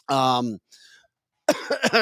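A single sharp cough comes close up, followed by a faint breathy sound and then a short burst of voice.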